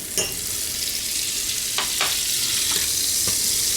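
Butter sizzles and fries steadily in a hot pan with leftover lobster bits, a constant bright crackle with occasional stirring scrapes, close and alone.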